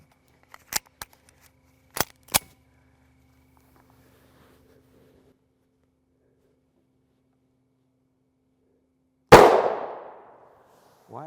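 A pistol fires 9x19mm 115-grain +P+ Underwood ammunition: a few sharp, thin cracks come early, then after a quiet stretch one loud report rings out and fades over about a second.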